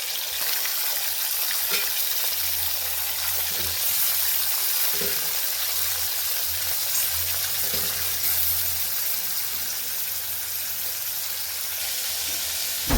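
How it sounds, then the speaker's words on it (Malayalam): Crushed onion and chili frying in hot oil, giving a loud, continuous close sizzle with a few soft stirring knocks throughout. "ഉള്ളിയും മുളകും അതിലിട്ട് മൂപ്പിക്കുന്നുണ്ട്"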